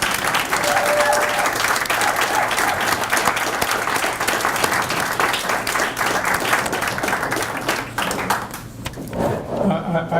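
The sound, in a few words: round of applause for veterans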